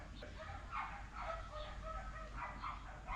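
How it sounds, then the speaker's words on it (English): Several small yappy neighbourhood dogs bark in short repeated bursts, faint and some distance off, over a low background hum. "A lot of little yappy dogs in my neighbourhood these days."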